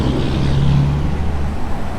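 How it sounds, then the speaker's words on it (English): Heavy road traffic with trucks on a busy small-town main street, a steady loud rumble with a low engine drone swelling and fading as vehicles pass close by. "it's loud, a lot of truck noise"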